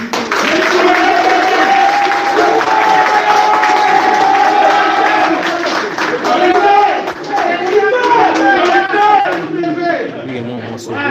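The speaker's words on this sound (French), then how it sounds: "encore un tonnerre d'applaudissements pour ce brillant présentation" An audience applauds and cheers at a press conference for a Congolese musician, a loud, steady wash of clapping and crowd noise lasting throughout, with voices calling out over it.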